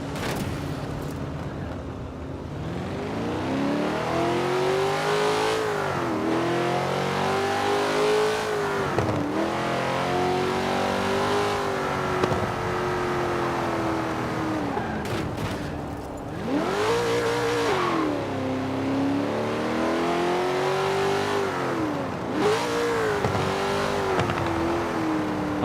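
A car engine in the Forza Horizon 4 racing game, driven in winter conditions, revs hard and steadily for the whole stretch, pitch climbing through gears and dropping at shifts, loud and close with no talk.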